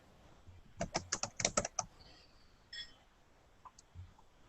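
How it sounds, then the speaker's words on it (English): Someone types on a computer keyboard during an online video call: a quick close burst of keystrokes, then a few sparse clicks, fairly quiet with no talk. "Were you just muted because you were typing?"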